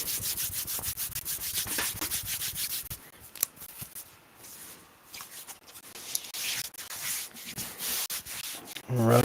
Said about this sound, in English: Bringing the palms together, you can rub them to create friction.